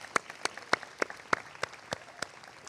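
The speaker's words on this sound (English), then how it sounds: "Pa'i lima, a round of applause." At a University of Hawaii West Oahu mid-year commencement ceremony, crisp, close handclaps land in a regular rhythm about three times per second, sounding like one or a few people clapping rather than a full crowd.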